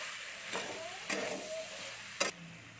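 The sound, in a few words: stirring roasted ground fennel into cauliflower in pan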